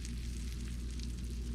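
Melted butter sizzles softly on hot, freshly baked Texas Roadhouse-style bread rolls, a faint, steady crackling hiss with no talking over it.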